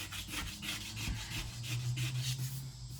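Body filler being hand sanded on a 1987 IROC Z28 Camaro under rebuild, a steady run of rapid back-and-forth scraping strokes, close and continuous, with a low hum underneath.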